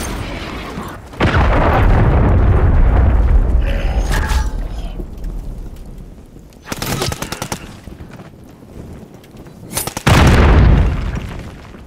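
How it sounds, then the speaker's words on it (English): Heavy booming blasts and bursts of rapid gunfire from a Call of Duty match, with a deep explosion rumbling near the start, staccato volleys midway and another loud blast near the end. "Friendly cruise missile deployed."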